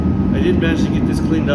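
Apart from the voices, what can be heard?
heater running in the shop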